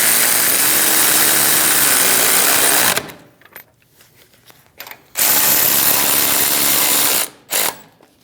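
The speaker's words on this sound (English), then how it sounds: "Snug down the caliper bolts." A ratchet tightens the brake caliper bolts on a 2001-2006 Chevrolet Silverado during a front wheel bearing and hub job: loud, close, continuous whirring runs of about three seconds, broken by quiet gaps and a short final burst.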